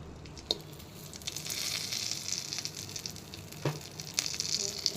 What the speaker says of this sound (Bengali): আমি বাটার গরম করে নিয়েছি বাটারটা একদম অল্প পরিমাণে নিয়েছি লাইক দেড় চা চামচের মতো তারপর হচ্ছে আমি এখানে একটা একটা করে দিয়ে দিচ্ছি